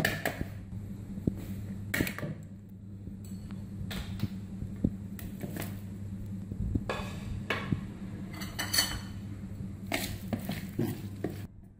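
Chicken being mixed by hand with cornflour, flour and spices in a bowl, giving soft intermittent squelching and scraping strokes over a low steady background hum, close and fairly quiet with no talking.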